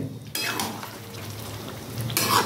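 Chicken for a methi butter chicken roast is stirred and fried in a pan, a loud close sizzle with bursts of utensil scraping at the start and again at the end.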